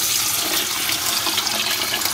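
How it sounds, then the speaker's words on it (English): Water poured steadily into a pot holding about a kilogram of brown sugar, a continuous close splashing rush with no talk. "In my pot, I have about 1 kilogram of brown sugar, to which I'm gonna add about 1300 milliliters of water."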